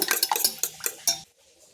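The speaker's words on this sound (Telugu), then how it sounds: "ఈ ఎగ్స్ అన్నీ బాగా బీట్ చేసుకుందామండి." Five eggs being beaten in a bowl, a rapid metallic clatter of a utensil knocking against the bowl for about a second, close and loud, then stopping abruptly.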